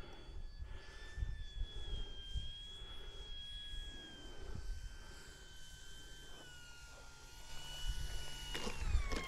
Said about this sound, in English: That's a bush plane.